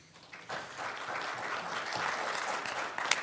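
A small audience at a working group presentation claps to welcome a presenter, starting quietly and swelling into steady moderate applause with a brief sharp clap near the end.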